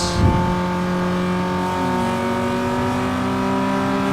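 A Citroën Xsara VTS engine in Need for Speed Underground 2 held hard at full throttle, its steady rising drone sustained and loud throughout with no talk over it.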